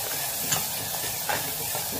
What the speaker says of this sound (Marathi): हे भाजते चांगलं, हे फ्राय व्हायला लागले